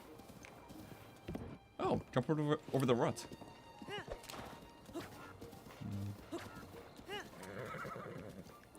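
A horse in Breath of the Wild gallops with rapid hoofbeats and lets out several loud neighs and whinnies, while someone talks over the action.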